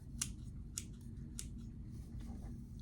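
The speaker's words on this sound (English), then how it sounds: "So just cut the moss into little pieces" Scissors cutting dried sphagnum moss into small pieces, with three crisp, close snips spaced about half a second apart over a low steady hum.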